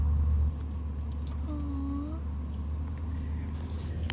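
Inside a moving car, a steady low road rumble and engine hum fill the cabin at a moderate level, with a brief rising tone partway through and faint background voices.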